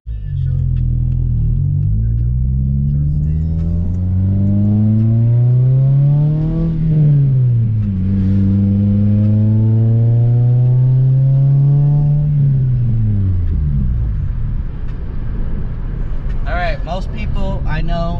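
A single-cam Honda car engine revving hard in repeated rising and falling sweeps during a 2-step launch, loud and close from inside the car, with people talking briefly near the end.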